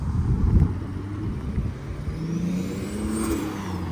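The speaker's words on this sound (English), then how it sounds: "Let's see real quick if they're a BMW with a turbo" A turbocharged BMW car accelerates with a steady, fairly loud engine drone and a thin whine that rises over a few seconds, with no voices.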